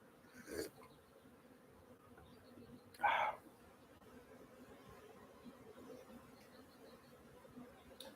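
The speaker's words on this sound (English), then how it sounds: "the bees are getting loud" A faint, steady drone of buzzing bees hums quietly in the background, with a couple of louder buzzes passing close by.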